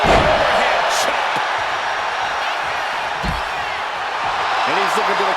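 An overhead chop lands in the WWE 2K25 wrestling video game, with sharp slapping impacts over a constant arena crowd roar, while a commentator's voice is heard.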